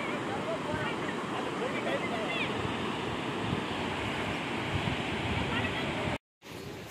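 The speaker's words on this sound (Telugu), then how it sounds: "చూడండి ఎంత ఫాస్ట్ వస్తున్నాయో, ఇది ఒక వింత అంటే ఇది చూడండి ఎంత ఫాస్ట్ పోరుతున్నాయో." Jog Falls in Karnataka pours down as a dense, roaring rush of water, loud and unbroken for about six seconds before a brief dropout, with no speech over it.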